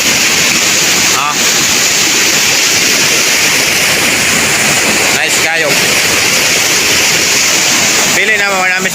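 A waterfall in Bukidnon roars as a loud, constant rush of falling water, and people briefly call out over the torrent a few times.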